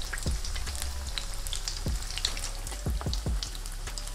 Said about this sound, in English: We're gonna let these fry for a few minutes on both sides until we have a nice golden brown color